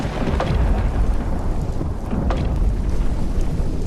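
A thunderstorm sound effect at sea, with loud, dense rain and wind noise throughout and a couple of low rumbles of thunder.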